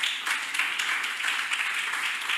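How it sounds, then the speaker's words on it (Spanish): Applause from a church congregation during a Spanish-language Assemblies of God sermon, a steady wash of many hands clapping close by with no talk over it. "Dale un aplauso al Señor."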